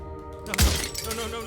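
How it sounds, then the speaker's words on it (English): Glass shatters in the video game Slay the Princess, a single sudden crash with lingering tinkling over background music. "his pleas disappear at the sound of breaking glass"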